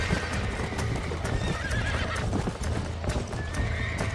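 Horse hooves clip-clop steadily in Red Dead Redemption, a continuous rhythmic trotting under dense ambient game sound, with an occasional whinny.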